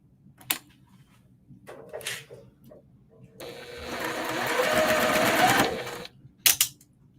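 A sewing machine stitches quilt block pieces, running in one steady whirring burst of a few seconds, with scattered handling clicks and fabric rustles before and after.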